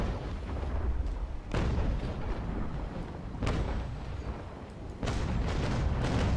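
Broadside cannon fire from sailing warships in the Naval Action game's Battle of Trafalgar, heavy booming shots landing at uneven intervals, with a rumbling continuous battle background between them.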